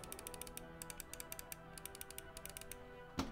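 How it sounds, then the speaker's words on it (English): Rapid, regular clicking of the buttons on an older Lamzu Atlantis gaming mouse, close and crisp, a steady run of sharp clicks ending in one heavier knock, with no talking. "Let me see how they sound here. These are the old ones."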